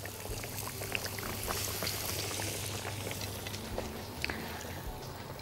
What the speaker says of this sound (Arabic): خليني أحمرهم الأول هنا في زيت سخن بما انهم جاهزين يعني